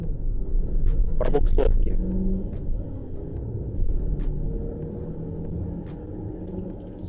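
A Chery Tiggo 8 Pro on studded winter tires accelerating at full throttle, a steady low engine and road rumble heard from inside the cabin, with brief speech over it.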